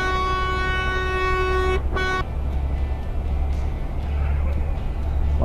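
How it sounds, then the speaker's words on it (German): A truck's air horn in Euro Truck Simulator 2 blasts loud and sustained for nearly two seconds, cuts off, gives a brief second toot, then engine rumble continues. "Achtung, gleich kommt die männliche Hupe."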